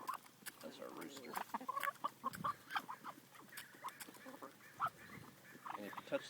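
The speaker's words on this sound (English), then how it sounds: "That's our rooster." Chickens and a rooster on a family farm at feeding time, with repeated short clucks and calls at close range over a busy yard, with people talking softly in between.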